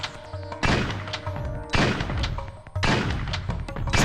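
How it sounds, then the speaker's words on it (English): Loud bursts of gunfire in the video game Tomb Raider Chronicles, three heavy booming volleys in quick succession with rumbling tails, over game music. "I'm going to start shooting at him."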